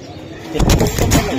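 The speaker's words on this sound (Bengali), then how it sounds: "এটা কবুতরটা আমি দেখাইলাম" A racing pigeon at a bird sale gives a brief, close, low throaty coo, a single soft burst lasting under a second.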